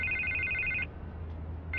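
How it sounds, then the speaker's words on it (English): Telephone ringing in the Batman Telltale video game: a loud electronic trill rings for most of a second, falls silent, then starts again at the end over a low steady hum. "I can't get the phone to stop ringing."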